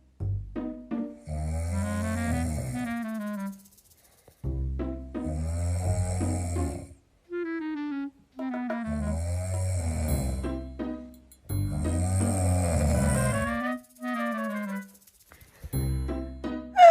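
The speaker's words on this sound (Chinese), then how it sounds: "由于女友睡觉总打呼噜" A woman snores in her sleep, with four or five slow, rasping snores spaced by quiet breaths. The sound is close and clear, with nothing else in the room.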